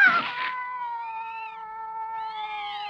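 A cat lets out a long, drawn-out wavering meow close by, its tone bending up and down over a few seconds, with a brief burst of noise at the start and no talking.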